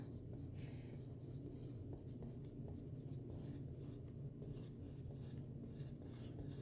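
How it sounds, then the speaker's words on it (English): A pen or marker writes out a long number by hand during a unit-conversion lesson, giving steady close scratching and rubbing strokes at low level, with no talking. "I'm going to write this one out"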